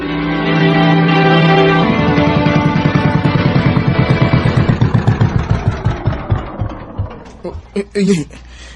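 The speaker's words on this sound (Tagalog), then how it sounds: "Nagka-problema man ang makina sa pambot. Patay-patay man ang andar." A pump boat engine drones steadily, then its firing slows into spaced, laboring chugs that sputter and falter near the end, loud and close with no voices.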